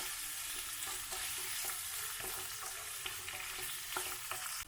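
Chopped onion, one large onion, and a chopped green chilli sauté in a pan, a continuous close sizzle broken by light scraping stir clicks throughout, no voices.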